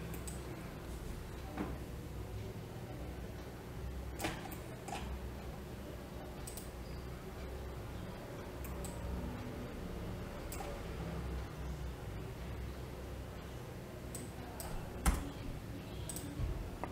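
A few faint, sparse computer mouse clicks while working in CATIA, scattered over a quiet, steady background hum.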